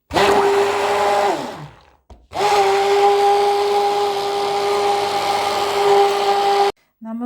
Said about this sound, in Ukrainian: До шоколаду з желатином я додала холодні вершки і пробиваю блендером.